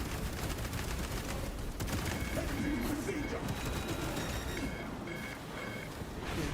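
Rapid gunfire rattles continuously in a shooting video game, dense bursts layered with game noise at a moderate, fairly distant level, with a voice faintly underneath.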